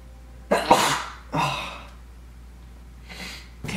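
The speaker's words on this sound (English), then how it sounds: "Can I just freaking stop sneezing" A character in the Minecraft Story Mode video game sneezes three times in a row, loud and close, each a sharp breathy burst with short pauses between.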